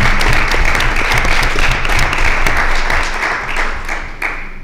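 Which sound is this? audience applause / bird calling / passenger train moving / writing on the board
audience applause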